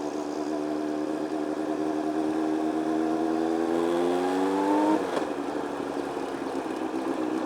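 Sport bike engine with D&D slip-on exhaust pipes revving up steadily, the pitch climbing over several seconds to a peak before cutting off abruptly, then settling into a rough idle; close and loud, no talking.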